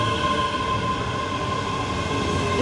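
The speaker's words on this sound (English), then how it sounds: "Train." A train passes close by on a trip to Edinburgh, with a continuous loud rumble of wheels and carriages plus a steady high ringing tone throughout and no talk.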